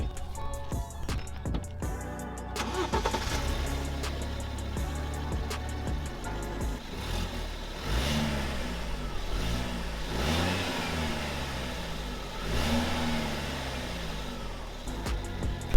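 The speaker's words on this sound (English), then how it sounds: "what the car sounds like when we're idling and we're parked up like this, if I wanted to just rev it up quickly" A BMW 1 Series four-cylinder engine idles steadily, then revs up sharply several times, each burst rising and falling back to a low idle, close by with no talk.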